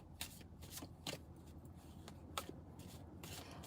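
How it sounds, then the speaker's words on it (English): Playing cards are shuffled quietly and repeatedly, with soft riffling bursts in an irregular rhythm, close by and alone. "As soon as I see the card you want, I'll stop shuffling."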